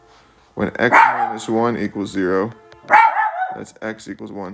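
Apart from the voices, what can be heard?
dog barking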